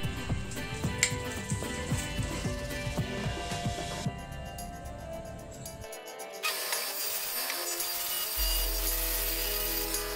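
A wooden board is sawn to size while building a bookshelf. Close, rhythmic rasping strokes give way to steadier, continuous cutting noise, with no talking over it.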